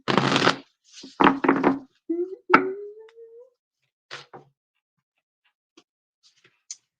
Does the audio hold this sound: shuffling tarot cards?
yes